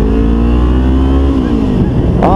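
A 2012 Kawasaki Ninja 250 motorcycle engine revs loudly up through the RPMs while accelerating on the road, a close, sustained rising drone with wind noise.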